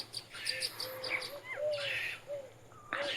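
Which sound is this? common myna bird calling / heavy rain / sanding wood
common myna bird calling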